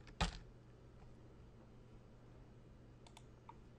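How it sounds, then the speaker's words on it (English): A password is typed on a computer keyboard: one sharp key click up close, then a few faint, sparse taps after a quiet pause, with no talking. "And so I type the password that I used."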